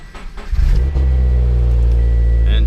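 A Scion FR-S engine fires up and settles into a steady, loud idle rumble close by, with a brief rising rev at the start.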